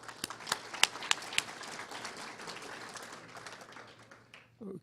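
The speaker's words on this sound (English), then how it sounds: "we want to briefly give them some applause" Applause for volunteers at a monthly engineering society meeting, with a few sharp claps at first and then a scattered, fairly faint spell of clapping that trails off.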